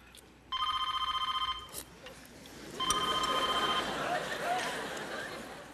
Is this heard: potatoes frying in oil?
no